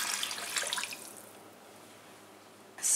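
Water from a measuring cup poured into a slow cooker holding carrots, brown sugar and soy sauce, a short splashing pour that tapers off into quiet, with a brief bright clink at the end.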